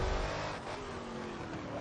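A hypercar engine in a racing video game drones loudly and steadily, its revving tone shifting slightly as it runs for a couple of seconds with no voices over it.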